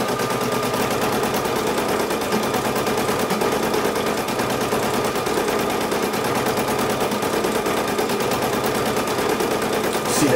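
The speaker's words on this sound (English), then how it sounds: "See the SE1900 stitching out the bear." A Brother SE1900 embroidery machine stitches a bear design straight onto a onesie, its needle hammering in a fast, steady mechanical rattle that stays loud and close for the whole stretch with no talking.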